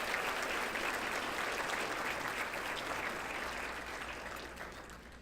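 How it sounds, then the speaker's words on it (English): An audience at a regional Aboriginal recognition awards ceremony applauds the award recipients. Dense, sustained clapping from a large crowd holds steady, then slowly fades over about five seconds. "Let's give all of our award recipients a round of applause."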